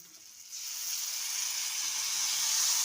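Mashed eggplant, tomato and green chili go into browned onion in a pan, and a broad hissing sizzle swells at once and holds steady and fairly loud for a few seconds.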